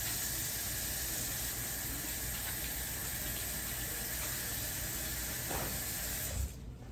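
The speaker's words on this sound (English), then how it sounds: "while I'm over here washing my hands" Hands being washed under a running kitchen tap make a steady, close hiss of flowing water that cuts off abruptly near the end.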